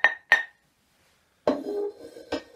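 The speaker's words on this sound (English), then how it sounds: "I've pulled out a little pan, which makes a high noise." A small kitchen pan is struck twice with bright, high-pitched clinks, then after a pause comes a duller metallic knock with a short ringing tail and another clink.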